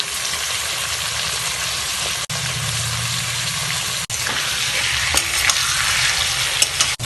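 Chicken pieces fry steadily in a pan with chopped onion, garlic cloves, salt and turmeric for a village-style Bengali chicken and potato curry, a loud continuous sizzle with stirring scrapes and a few sharp clatters.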